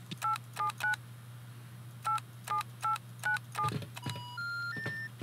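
A telephone dials a number in the Rust video game: two quick runs of touch-tone beeps, a pause, then a longer run, followed by a few rising electronic tones over a low steady hum.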